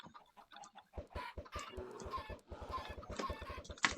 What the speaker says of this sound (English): We're just throwing around chickens.